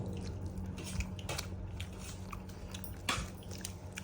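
Close, moist biting and chewing of goat meat curry with gravy on Bakrid, with soft crunches and squishes and a couple of sharper bites over a quiet room hum, and no voices.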